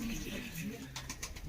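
A male pigeon of a show breed gives low, soft coos in a loft setting, with someone talking over it throughout.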